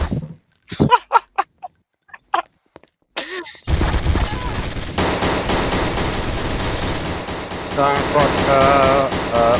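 A random gun firing in Garry's Mod Trouble in Terrorist Town, loud sustained automatic gunfire that starts abruptly after a stretch of short talk and continues steadily to the end.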